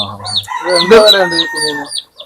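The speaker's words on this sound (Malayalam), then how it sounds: "ഇതെല്ലാം നാടൻ പുള്ളിക്കോഴിലാണ്" Native spotted country chickens on a small poultry farm cluck and call loudly and close by, a busy run of overlapping calls that stops abruptly at the end.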